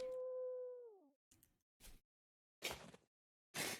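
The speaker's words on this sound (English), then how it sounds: "Well, I heard the wolf." A wolf in a video game lets out a long, clear, falling howl, followed by several short, noisy bursts of game sound separated by silence.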